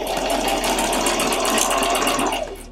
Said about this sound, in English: Of course, you want to use a zigzag stitch that runs within the width of your elastic.